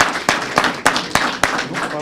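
Members of the Belshina football team clap for their new club director, with several sharp, distinct claps spread across a short stretch over a murmuring room.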